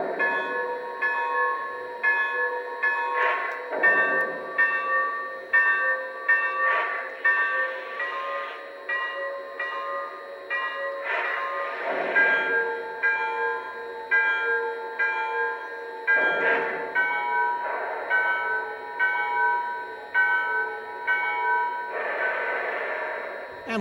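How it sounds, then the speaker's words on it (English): Bell sounds from the sound system of a Lionel model RF&P 2-8-8-2 H-7 steam locomotive, a series of distinct ringing bell patterns, each a run of repeated clangs with short pauses between the sets. "now let's check out the 5 bells"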